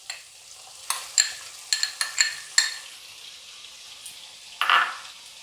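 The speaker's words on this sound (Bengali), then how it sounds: "এবার আমি এর মধ্যে 1 কাপ পরিমাণ গ্রেট করা গাজর দিয়ে দিলাম।" Grated carrot sizzles in a pan over a medium gas flame while a utensil stirs it, giving several sharp scraping strokes in an irregular rhythm over a steady, gentle frying hiss, with a longer stir near the end.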